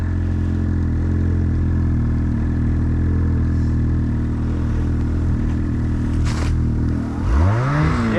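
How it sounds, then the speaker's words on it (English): A modified Ski-Doo snowmobile engine runs at a strong, steady drone, loud and close, with mechanical clatter and a rising rev swelling near the end; no voices are heard. "I think it's revving better and it's climbing better"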